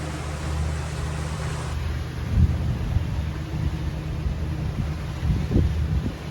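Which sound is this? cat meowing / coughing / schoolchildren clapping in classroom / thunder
thunder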